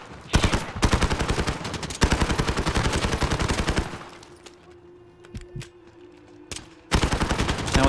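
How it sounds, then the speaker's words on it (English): Rapid automatic gunfire in the video game Call of Duty: Modern Warfare, loud sustained bursts of shots, a pause with scattered single shots and a faint tone, then another burst. "Now all you need to do is just gun them down."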